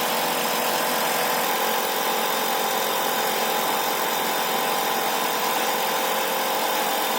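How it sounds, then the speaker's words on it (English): An electric motor coupled to a shunt DC generator runs steadily, giving a loud, continuous whirring hum with a constant high whine and no change throughout, no voices. "you can hear that the motor is running, it's making all this noise, and it's driving the generator"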